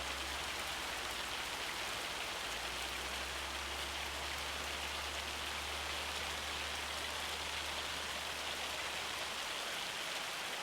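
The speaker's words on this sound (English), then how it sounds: "that's like some serious hail coming down" Dense, steady hail pelting down in the Farming Simulator 25 video game, an even hiss of small impacts with a low rumble underneath, continuous and moderately loud throughout.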